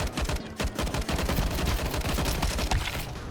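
Rapid gunfire from Counter-Strike 2 gameplay rattles on continuously in dense, overlapping bursts, loud and steady throughout with no talk over it.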